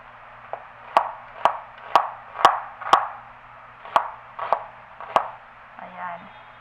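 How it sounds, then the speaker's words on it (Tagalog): Beef being sliced with a kitchen knife on a cutting board, about nine crisp, separate chops in an uneven rhythm, close and clear, with a soft background hum. "So ngayon, hiwain lang natin siya ng ganito."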